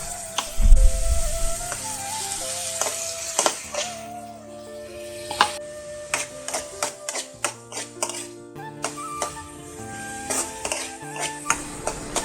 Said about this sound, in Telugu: ఆవాలు, జీలకర్ర, అలాగే మనం చాప్ చేసి పెట్టుకున్న టమోటా, ఉల్లిపాయను కూడా వేసుకుని ఈ ఉల్లిపాయ కలర్ చేంజ్ అయ్యే వరకు వేగనివ్వాలన్నమాట